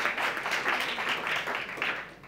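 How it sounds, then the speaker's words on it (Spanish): Applause from the audience of a conference session on augmented reality, honouring Héctor and Jorge: a short, steady round of clapping at moderate level that tapers slightly at the end, without speech. "Un aplauso para Héctor y para, para Jorge"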